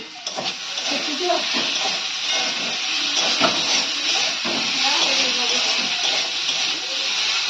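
Large pressure cooker boiling potatoes, releasing a loud, continuous close steam hiss that runs throughout with faint clatter and voices underneath.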